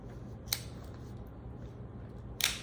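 A Victorinox pocket knife's scissors are handled, giving two short, sharp metallic clicks about two seconds apart over a quiet room background.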